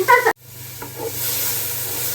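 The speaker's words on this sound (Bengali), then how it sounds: "তো পেঁয়াজটা একটু ভাজা ভাজা হয়ে আসুক" Chopped onions fry in oil for mutton rezala, a steady close hiss and sizzle that settles in right after a short burst of clatter.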